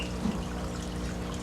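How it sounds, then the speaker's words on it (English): Water pours into a shallow natural seashell dish pressed into sand in a land hermit crab enclosure, a soft, close trickle running steadily for a moment under faint background hiss. "And place water in one."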